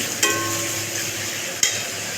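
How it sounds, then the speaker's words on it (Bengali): Steady hiss and sizzle of chicken frying in a pan, broken twice by brief clattering scrapes of stirring. "এখানে চিকেনটাকে একটু হালকা ভাজা করে নিই"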